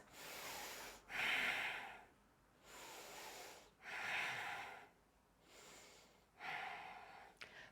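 Slow, steady breaths held through a yoga crescent lunge, three long airy inhale-exhale cycles spaced evenly a couple of seconds apart, close and soft with no talking.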